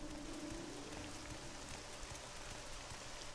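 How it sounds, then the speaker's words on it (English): Steady rain falls in the game Morrowind multiplayer, a constant soft hiss of droplets that stays even and unbroken throughout, with no voices over it. "And now it's raining."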